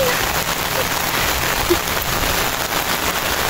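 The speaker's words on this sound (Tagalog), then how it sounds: "Ang lakas ng ulan, nakakainis." Heavy rain pours down in a dense, unbroken roar, loud and close, holding steady with no pauses.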